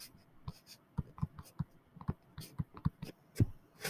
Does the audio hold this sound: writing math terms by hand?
yes